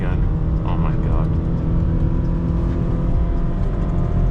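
A Honda Fit with a CVT accelerates at full throttle on a backroad in Cyprus, producing a constant, loud, droning engine hum heard from inside the car.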